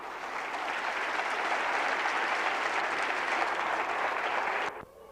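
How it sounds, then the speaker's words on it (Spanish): A church congregation applauds loudly and steadily for nearly five seconds, a dense continuous wash of clapping that cuts off abruptly near the end, leaving a quiet room. "Bien fuerte ese aplauso."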